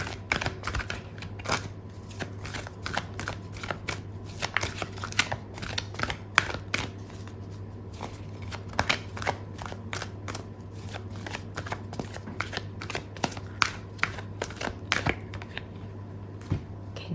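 Tarot cards are shuffled, tapped and slid apart in close, irregular bursts of soft clicks and flicks, a steady low hum beneath.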